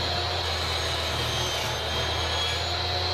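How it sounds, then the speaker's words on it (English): A table saw with a miter gauge crosscuts a thick reclaimed wood board, giving a loud, steady, close-up roar with a low hum underneath that runs unbroken to the end. "I'm using the miter gauge on the table saw for this step because the board is too thick to use on my crosscut sled."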